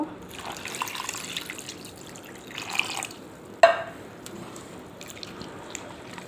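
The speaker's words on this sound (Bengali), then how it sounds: "এর মধ্যে এখন আমি পানি দিয়ে দিব" Water is poured into mashed potatoes in a kitchen, heard as quiet splashing and dripping with one sharper splash midway, alongside faint background noise.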